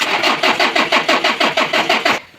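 A diesel engine struggles to start after glow plug work, cranking over in a rapid, even series of about a dozen loud chugging turns before cutting off without catching.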